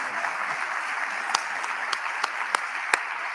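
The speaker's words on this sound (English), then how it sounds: "I'm gonna clap because y'all." Audience clapping at a county government State of the County address, a steady dense patter of many hands with a few sharper individual claps standing out, moderately loud and without talk.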